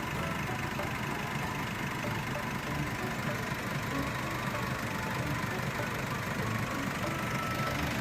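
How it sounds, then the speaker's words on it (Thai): A Nissan Navara 2.5 4x4 pickup truck engine idles at a steady, smooth rumble with a faint mechanical chatter, close by and unchanging throughout. "ว่าเครื่องยนต์ก็เสียงนิ่มๆนะครับ ไม่มีเสียงคอมแอร์ไม่มีเสียงสายพานดังนะครับ"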